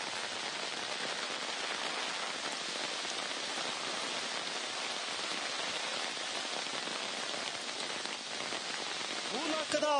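Heavy rain pours onto a road in the Datta Peetha area of Chikkamagaluru, a dense, steady hiss of drops drumming on the surface that stays loud and unbroken throughout, with no voices.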